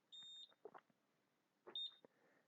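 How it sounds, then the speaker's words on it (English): Race timing gate hardware for lane 2 beeps as it powers on and connects, two short high electronic beeps about 1.7 seconds apart, quiet and close, with faint clicks and handling noise around them. "wait for that second beep"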